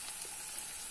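Onions dropped into a hot pan for jackfruit tacos sizzle with a continuous hissing fry, steady and close, without any talking.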